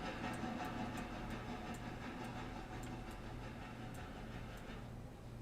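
Within the Railroader game, a train backs up to collect a caboose, a soft steady rumble of rolling stock with faint regular wheel clicks, distant and quiet, no voices.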